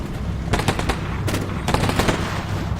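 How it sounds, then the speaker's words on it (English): BMP infantry fighting vehicles fire machine guns in Combat Mission Black Sea, loud rapid bursts in several quick clusters over low battlefield rumble. "The BMPs are all just using their machine guns now, rather than 100mm."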